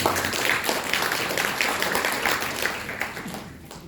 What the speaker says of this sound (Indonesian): Tepuk tangan buat Prudensial